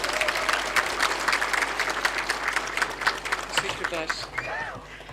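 Audience applauding at a Turkish digital youth centre opening ceremony as a speaker is invited to the podium, steady moderate clapping from a crowd, slightly distant, with a voice briefly audible near the end.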